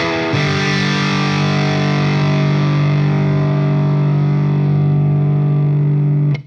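An electric guitar chord through a BOSS DS-1 Waza Craft distortion pedal rings out heavily distorted, sustained for several seconds with a thick, buzzing tone before cutting off abruptly.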